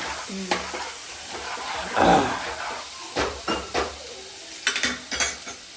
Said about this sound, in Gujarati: કમ્પ્લીટ સોટા થઈ જાય પછી લસણની પેસ્ટ નાખીએ, આદુ લસણની